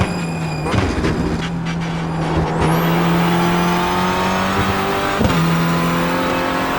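Renault Clio Cup race cars in iRacing run loud and close, a steady buzzing engine note holding through gear changes and shift blips, with a whistling tone sweeping up early and brief squeals from the pack.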